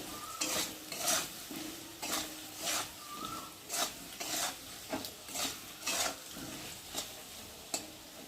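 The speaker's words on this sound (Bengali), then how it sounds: "দিয়ে হলুদ, নুন আর জিরে দিয়ে একটু ভালো করে কষিয়ে নেব।" A spoon scrapes and stirs potatoes frying in oil with turmeric, salt and cumin in a pan for a pabda fish dish. Soft, rhythmic strokes come about once a second over a faint sizzle, with no talking.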